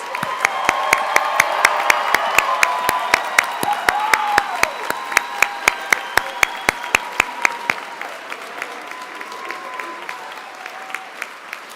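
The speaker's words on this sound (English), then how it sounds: "So let's give a big round of applause for all our graduates." An audience at a nursing college convocation claps for the new graduates, a steady run of individual hand claps that starts full and dense, then thins and fades toward the end.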